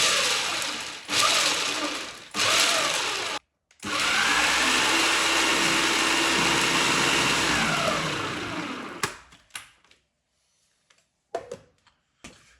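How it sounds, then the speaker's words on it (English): A food processor pulses almonds and pistachios in coarse chopping bursts: two short whirs, then a long loud grinding run that stops, followed by faint scattered knocks. "150 grams or 1 cup of almonds into the food processor. And we just want to pulse"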